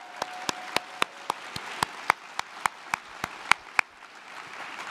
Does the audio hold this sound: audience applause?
yes